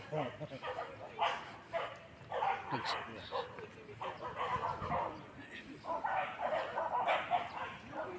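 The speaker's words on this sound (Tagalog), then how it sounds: "Kung may nag-away ng aso dito." Several dogs bark, yip and snarl in a scuffle at moderate distance, with bursts of yelping over a person talking nearby.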